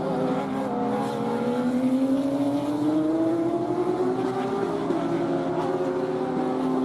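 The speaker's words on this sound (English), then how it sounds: "there's Scott Blind and Evan as the leaders come into West Horseshoe" Porsche GT3 Cup race cars at Daytona racing into West Horseshoe: a continuous, loud engine drone whose pitch climbs steadily as the cars accelerate, with no voices.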